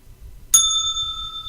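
A single bell rung once during a live trading broadcast, a sharp ding with a clear ringing tone that sustains steadily to the end over faint low background hum.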